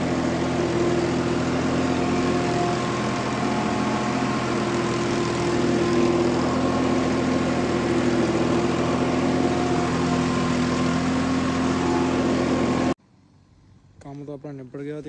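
A Ford tractor hitched to a trolley runs with a loud, close, steady engine drone for about thirteen seconds, then cuts out abruptly and a voice speaks briefly.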